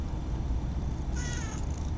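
A single cat meows once, short and clear, over a low background rumble.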